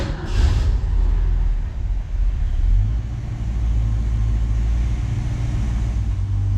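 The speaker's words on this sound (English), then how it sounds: "So we're gonna try and start it without any throttle input and see what it" The engine of a 1966 Mustang with Holley Sniper fuel injection is started and settles into a steady, deep, rumbling idle, close and loud, with no voices.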